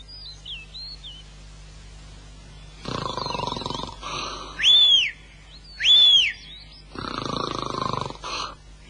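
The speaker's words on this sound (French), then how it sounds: "Il ronfle comme une vraie cheminée." A Moomins cartoon character snores loudly in two slow cycles, each a rough rasping inhale followed by high, whistling exhales, with quiet gaps between and no talk.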